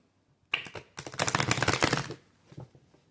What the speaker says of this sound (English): Let me do a quick little shuffle here.